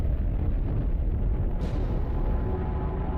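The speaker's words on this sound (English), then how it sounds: "This is a gamma ray burst, the biggest explosion to rock the universe since the Big Bang." A gamma ray burst portrayed as a colossal cosmic explosion, rendered as a loud, sustained low rumbling roar that swells midway and keeps thundering to the end without pause.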